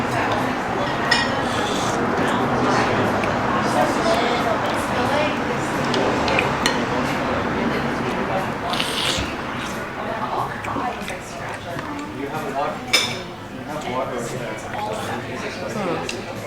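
Spoon scrapes and clinks against a bowl while scooping spicy tomato seafood broth of Korean jjampong stew, light utensil taps and liquid stirring under near-continuous talk.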